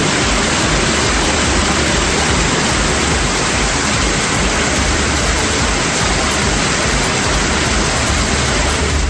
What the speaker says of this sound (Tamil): ஜம்மு காஷ்மீரில் அனந்த்நாக் நகரின் சுற்றுவட்டாரத்தில் மழை பொழிந்தது